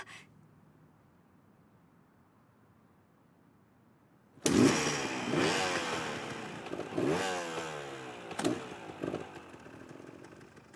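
A motorcycle engine starts abruptly after several seconds of quiet and runs loud and close, its buzzing note rising and falling with revs as it pulls away; no one speaks.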